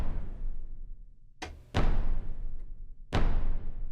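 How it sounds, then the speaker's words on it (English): Orchestral percussion big-hit impact from the UVI Meteor FX library: three sharp, booming hits, the first lighter and the next two heavier, each decaying into a rumbling tail. "Okay, so it's a little bit of a percussion hit"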